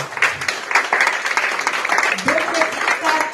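Audience applause at a business hall of fame awards ceremony, a steady wash of many hands clapping, fairly loud and dense, with a voice talking over it near the end.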